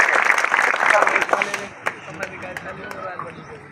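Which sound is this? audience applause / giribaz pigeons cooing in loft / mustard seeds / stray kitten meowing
audience applause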